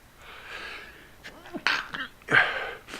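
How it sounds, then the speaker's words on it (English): A person sneezes close into a microphone: a sharp inhaled buildup, then two abrupt bursts about a second apart, with breathy catches in between. "I really apologize for sneezing in everybody's ear."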